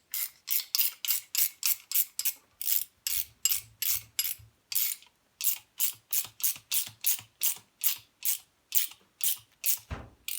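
Titan double flare tool being tightened down on a brake line, giving a long run of quick, evenly spaced ratchet clicks with brief pauses between bursts, close and crisp, with no voices.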